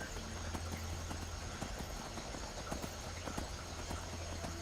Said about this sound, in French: Un cheval. Tout seul.